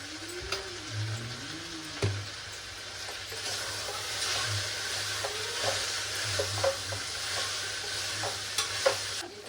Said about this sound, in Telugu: ఆలు, బఠానీ ఇవన్నీ మంచి నూనెలో ఫ్రై కావాలి.